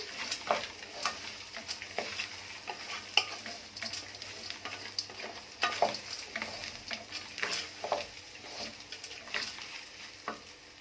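Rice for Egyptian koshari is stirred in hot oil in a pot, a soft continuous sizzle broken by repeated scraping strokes of the spoon at an uneven rhythm, close and moderately loud.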